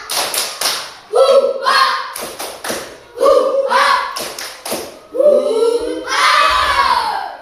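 A classroom of children performs a tepuk semangat clapping routine, chanting loudly in rhythmic bursts with claps and thumps in time, several phrases repeated in a lively group cadence.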